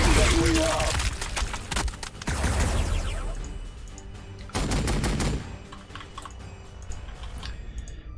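Automatic gunfire from a Warhammer 40k Sanctus Reach battle, with dense rapid bursts crackling through the first few seconds, a second loud volley midway, then sparser shots over the game's battle ambience.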